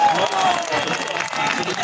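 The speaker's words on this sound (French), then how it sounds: "un tonnerre d'applaudissements pour Maître David Guillon" Audience applause for Maître David Guillon at a Paris event, a dense steady clatter of clapping hands filling the room, close and loud throughout with crowd noise under it.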